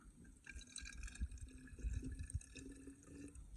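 Weak aqua regia is poured into a container during gold recovery, a steady close liquid pour with faint trickling and dripping and no speech.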